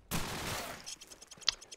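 Desert Eagle pistol shot in Call of Duty 4 promod, a single sharp report fading into a short tail, followed by faint small clicks and a brief metallic ping, fairly quiet.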